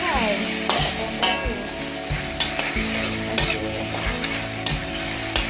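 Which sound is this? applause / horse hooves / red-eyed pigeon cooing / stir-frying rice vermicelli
stir-frying rice vermicelli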